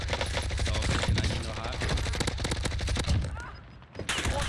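Dense bursts of automatic gunfire from a GRAU 5.56 rifle in the video game Warzone, loud and close, with rapid repeated shots packed across the whole stretch and a brief lull near the end before the firing resumes.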